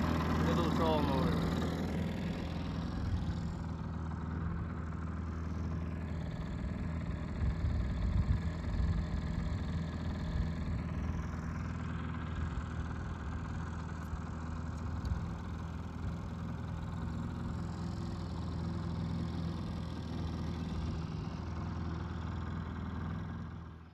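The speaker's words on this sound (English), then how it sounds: "Little trolling motor." A little trolling motor drives a small fishing boat, running as a steady low drone that holds at an even level throughout, with outdoor background noise around it.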